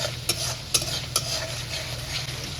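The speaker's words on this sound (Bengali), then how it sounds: "এখন মশলাটা খুব ভালো করে কষিয়ে নিতে হবে যতক্ষণ না তেল ছাড়ে।" Poppy seed paste masala with salt and turmeric fries in oil while a spoon stirs it, giving a steady close sizzle broken by a few sharp scraping clicks.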